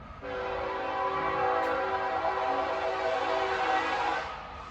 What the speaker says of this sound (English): The train never disappoints.